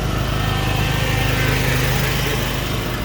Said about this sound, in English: This guy on the lawnmower after me.